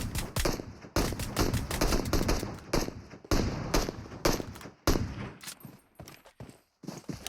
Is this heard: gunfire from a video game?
yes